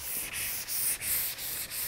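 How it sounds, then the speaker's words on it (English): Rhythmic back-and-forth sanding of a milk paint top coat with a 220 sanding pad, a steady abrasive rubbing with short pauses at each stroke change, close and moderately loud. "sand the top coat down smooth with a 220 sanding pad"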